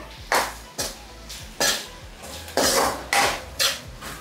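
Smashed tomatoes are stirred in a pan, about seven loud metallic scrapes and clanks of a spoon against the pan coming at a steady pace over a soft sizzle, close and with no talking.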